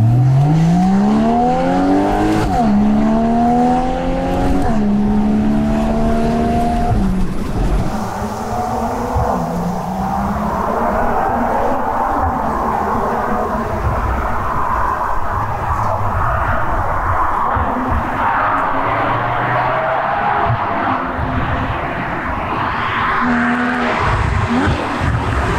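A Porsche 981 Boxster GTS engine revs hard and loud through rising gear pulls, then settles into a sustained roaring drive with tire and road noise, close and continuous throughout.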